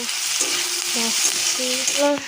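Onion and ginger fry steadily in a pan, a continuous close hiss and crackle with faint scraping and tonal squeaks from stirring along the way.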